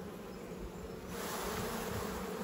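Honey bees buzz steadily as they crowd a hive frame being worked, with a faint shake dislodging them; the dense hum rises slightly partway through and continues close and unbroken, with no talking.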